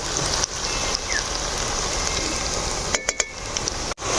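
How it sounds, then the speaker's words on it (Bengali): Onions fry in a pan for a chicken kosha, a steady close hiss of sizzling oil with a few light clicks and scrapes of a spatula near the end. "পেঁয়াজটা আমরা হালকা লাল লাল করে ভাজি নিব"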